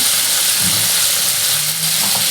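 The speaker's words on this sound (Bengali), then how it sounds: "ফোড়নটা রেডি হয়ে গেছে এবার আমি এর মধ্যে একটু জল দিয়ে দিচ্ছি" Water poured into hot tempering spices for a vegetarian cabbage curry, giving a loud, steady broadband sizzle and hiss that lasts throughout with a little low bubbling, no voices.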